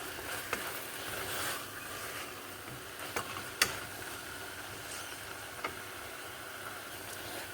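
Kasuri methi being stirred into mixed veg pulao frying in a pan, with a steady soft sizzle and a few sharp clicks and scrapes of the spoon against the pan.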